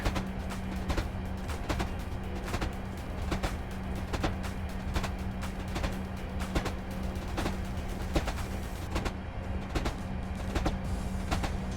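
A steady rumbling train passes close by, wheels clattering in a regular rhythm over a constant low hum, with no voices.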